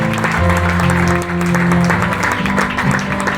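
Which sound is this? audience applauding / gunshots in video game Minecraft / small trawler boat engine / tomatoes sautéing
audience applauding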